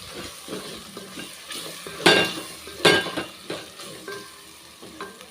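A spoon stirs ground masala paste into tomatoes in a pan for mushroom biryani. Soft sizzling runs throughout, with scraping strokes and two louder clattering scrapes near the middle, close and without talk.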